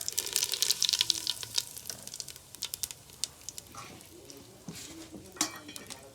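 Whole cumin seeds and asafoetida crackle and sizzle in hot oil over a wood-fired clay stove, with bright spitting pops early that thin out into scattered crackles.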